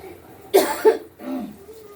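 A pair of harsh, close coughs in quick succession, followed by a softer throaty exhale, from a person with a bad cold and a sore throat.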